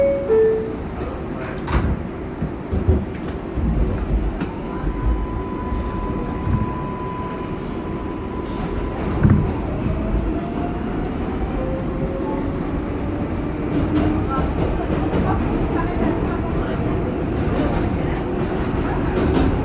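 An R142A New York subway train on the Bronx-bound 6 local runs steadily with a loud, continuous rumble and rattle, brief high squeals and clicks along the rails, and faint talk now and then.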